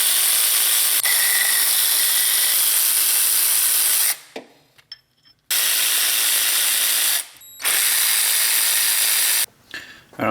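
A ratchet removes bolts on a Honda 3.5 engine during timing belt and water pump service: three long, loud, harsh runs of rapid ratcheting, each lasting several seconds and separated by short near-silent pauses. No speech.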